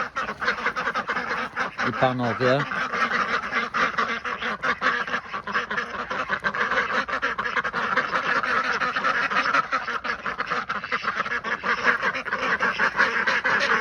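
Ducks quack briefly at moderate distance in frosty winter countryside, against steady wind-like background noise, with someone talking nearby.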